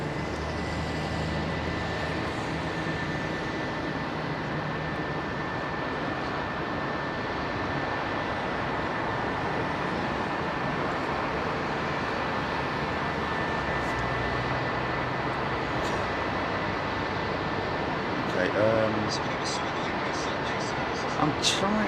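Airliners departing runway 27R at London Heathrow Airport, a loud, steady, close engine roar that fills the whole clip with a broad unbroken rumble.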